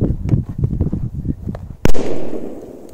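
A P200 firecracker bursts with one sharp, loud bang followed by a short fading rumble, after several seconds of quieter scuffing and handling noises.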